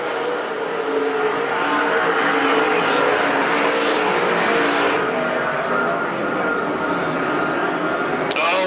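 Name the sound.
super stock race cars racing on Perris Auto Speedway dirt track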